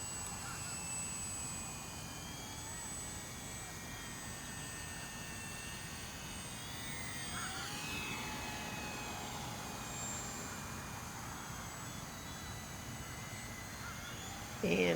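E-Flite Micro Scrappy 800mm electric RC plane flying aerobatics on a 3-cell battery, a faint, distant whine of its propeller rising and falling steadily across the sky.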